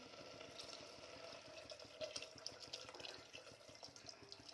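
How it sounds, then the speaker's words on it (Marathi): Water pours steadily into a pot in a home kitchen for a thick lentil and brinjal curry, a faint, continuous trickling and splashing with small bright drips throughout, no talking. "चार ते पाच वाटी पाणी घातलेलं आहे"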